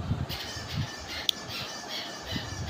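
An eagle lets out a squawking call among soft, pulsing background sounds, with one sharp, brief peak in the middle.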